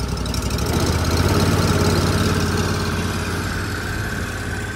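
A pressure washer's small petrol engine runs close by, chugging at a steady idle with a continuous low rumble and a slight lift in level partway through.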